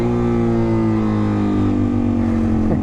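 Suzuki DRZ400 dual-sport motorcycle engine held at high revs during a wheelie, a loud, close, steady buzzing drone with strong harmonics and a slight pitch shift at the end, no talking.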